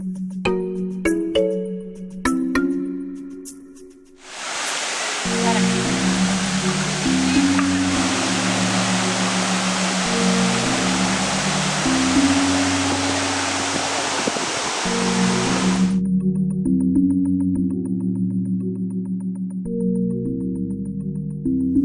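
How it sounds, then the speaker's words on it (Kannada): Mookanamane waterfall near Attihalli, in the monsoon season, gives a loud, steady rush of falling water that lasts about twelve seconds over soft background music, which plays alone before and after the roar. "ವಾಟರ್ ಫಾಲ್ಸ್ ಹತ್ರ ಹೋದ ತಕ್ಷಣ ಬೇರೇನೂ ಕೆಲಸಲ್ಲ, ಜಸ್ಟ್ ನೀರಿನ ಸೌಂಡ್ ಮಾತ್ರ"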